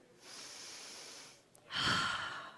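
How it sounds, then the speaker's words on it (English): A conference audience at a startup competition in Madrid breathes together: a long, soft inhale of massed air, a brief pause, then a louder, fuller collective exhale. "can you take a deep breath with me?"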